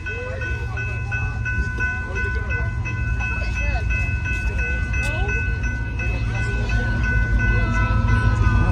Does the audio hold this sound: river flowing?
no